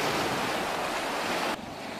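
Surf breaks and rushes up a beach in a loud, steady roar mixed with wind noise on the microphone, cutting off sharply near the end.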